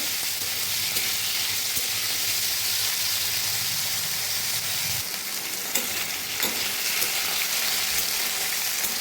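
Potatoes fry in oil with a bay leaf, a continuous, moderately quiet sizzle and hiss with occasional soft spatters, steady from start to finish with no talking.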